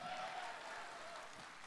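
Faint, steady applause from a stand-up comedy audience, a soft continuous patter of clapping from a crowd that carries evenly through the short moment without any voices.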